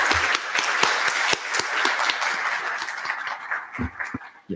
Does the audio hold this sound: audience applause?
yes